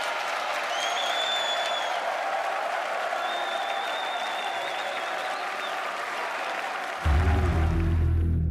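Large crowd applauding and cheering in an arena at the Red Bull Wololo Londinium grand final of an Age of Empires tournament, steady sustained clapping throughout with faint high whistles, ending in a sudden louder low rumble.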